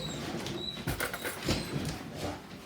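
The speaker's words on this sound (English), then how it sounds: "The dog's excited. She smells it." A female dog whimpers and whines in short, soft, uneven bursts while smoked meatloaf is being served nearby, a fairly quiet indoor sound with no talking.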